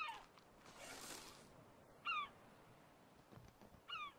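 A seagull in the survival game The Forest gives short squawking calls, three brief cries spaced a couple of seconds apart over faint ambient wind, fairly quiet and alone.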